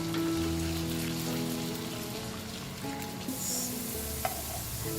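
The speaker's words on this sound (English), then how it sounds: "We will fry these potato cubes until they are done." Potato cubes fry in hot oil in a pan, a steady, dense sizzle and crackle that continues throughout, with occasional stirring and utensil clinks and a faint hum underneath.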